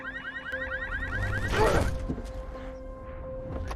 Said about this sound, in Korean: 가볍게 자동차 경보를 해제하는 것부터